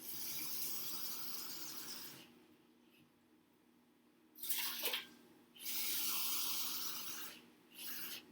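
Water from a kitchen tap pours into a cooking pot in bursts, a long fill, a pause, then shorter runs and a final brief splash, fairly close.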